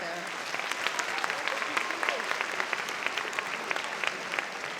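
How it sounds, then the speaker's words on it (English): Audience applause at an AP awards ceremony, a steady wash of many hands clapping at moderate level with faint voices mixed underneath, continuing throughout. "How about an applause for Anthony Tate there?"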